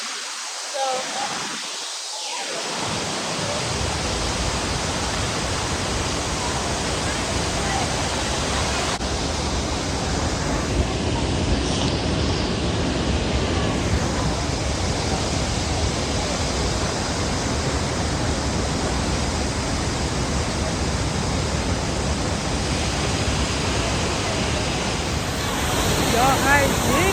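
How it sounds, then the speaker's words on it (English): A waterfall in Oaxaca roars as a loud, steady rush of falling water that fills the whole clip, with wind buffeting the microphone near the start, and no one speaking. "I'm at the waterfall."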